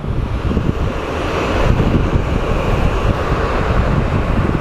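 A DHL cargo plane operated by iAero roars at Phoenix Sky Harbor airport, a broad, steady rushing noise that swells slightly midway, mixed with wind buffeting the microphone and no talking.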